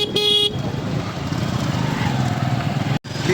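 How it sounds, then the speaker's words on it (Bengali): A motorcycle carrying two riders drones along a broken, rough rural road near Bichanakandi, Sylhet, with a short horn toot at the start and close, continuous engine noise afterward. "এই যে আমাদের বাইক চালাচ্ছেন, আমরা যাচ্ছি"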